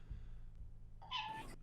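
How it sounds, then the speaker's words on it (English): A cat gives a single short meow near the end, faint over a low steady background hum with a soft thump at the start. "Meow."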